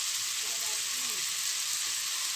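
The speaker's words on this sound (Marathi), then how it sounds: "आणि थोडं त्याच्यामध्ये तूप." Onions frying in ghee for a chicken dum biryani, giving a steady, close hiss of sizzling that fills the pan with no letup, some faint low clatter beneath it.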